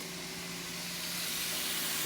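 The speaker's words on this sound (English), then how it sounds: "heat up some olive oil. You're going to add your onion and your carrot first." Onion and carrot sizzling in hot olive oil in a small pan, a steady broadband crackling hiss with a faint low hum beneath, no voices.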